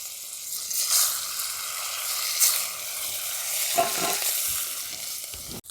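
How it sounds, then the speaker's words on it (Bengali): Small puti fish frying in a pan of hot oil, a steady close sizzle with spatula stirring and a few sharper clatters toward the end, no voices. "মাছগুলো আমি ওই একইভাবে ভেজে নিচ্ছি।"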